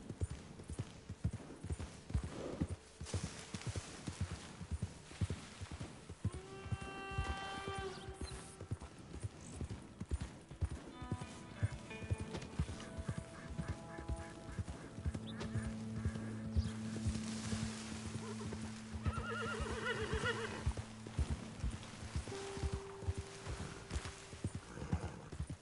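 Horse hooves clip-clopping at a steady trot with a neigh partway through in Red Dead Redemption, rhythmic and continuous over quiet melodic game music.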